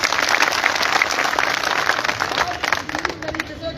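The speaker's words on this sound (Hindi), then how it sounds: "चलो ये भी इसके लिए आपको ताली बजानी चाहिए" An audience at a nurses' protest at Swasthya Bhawan in Jaipur claps steadily, a dense crackle of many hands running the whole time and thinning a little near the end.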